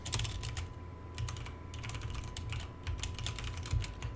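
Typing on a computer keyboard while writing game code, quick irregular clusters of key clicks close to the microphone against a quiet background hum, with brief pauses between bursts.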